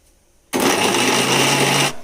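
An electric mixer grinder grinding spices starts abruptly, whirs loud and steady for about a second and a half, then cuts off and winds down.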